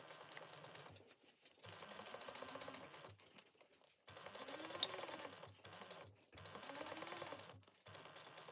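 A sewing machine runs in several short bursts, stopping and starting as it sews a pocket closed, each burst a quiet steady whir of needle clicks with pauses between.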